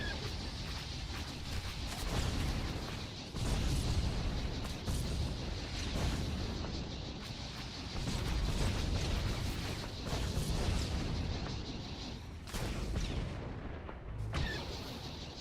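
Missile blasts and heavy weapon fire from a space battle in the online game Star Wars: The Old Republic rumble as repeated deep booms and crackling impacts. They run continuously at moderate volume, with a few sharper hits near the end.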